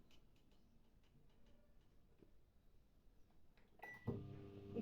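A microwave oven set to 900 watts for two minutes roasts rice papads, giving off faint ticking at first, then a loud, close humming tone near the end.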